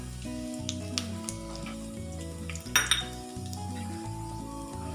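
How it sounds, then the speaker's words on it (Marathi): Cumin seeds crackle and sizzle in hot oil in a pan, a steady close frying hiss with a few sharp pops and a brief louder burst, plus light clinks of a utensil. "तेल तापल्यानंतर जिरे घालायचे आहेत."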